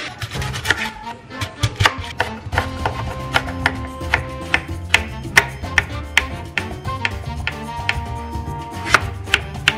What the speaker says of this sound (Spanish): Así que vamos a comenzar a rebanar